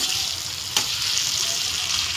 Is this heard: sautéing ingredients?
yes